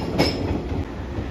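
A JR West 115 series suburban electric train runs past alone, a steady loud rumble of wheels and motors with a brief squeal near the start.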